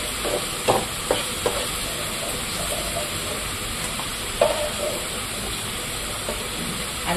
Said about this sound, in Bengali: মাছ ভাজাটা হয়ে গেছে, এবার মাছটাকে আমি তুলে নেব